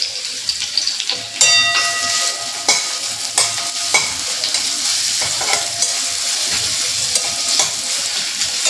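Chopped onion and dried chilli sizzle in hot oil in a pan, a steady crackling hiss broken by sharp clinks and scrapes of a stirring utensil. It is close and alone, with no talk.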